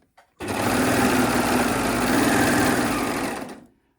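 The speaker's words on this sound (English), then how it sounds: "And then I'm just going to overlock right the way along it." An overlocker runs in one continuous burst along ripped viscose fabric, a loud, even mechanical whir that starts abruptly, holds steady for about three seconds and then stops.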